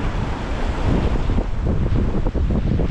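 Sea waves surging into a river mouth on the coast near Bacacay, Albay, a steady broadband wash of surf and water noise mixed with heavy wind buffeting on the microphone, continuous and fairly loud with no voices.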